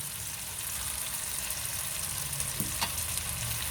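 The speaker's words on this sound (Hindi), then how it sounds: "अब मसाला भुन चुका है तो टमाटो प्यूरी डाल देंगे इसमें" Masala fries with tomato puree in a pan for palak chicken curry, giving a constant close hiss and sizzle with faint utensil knocks near the end and no talking.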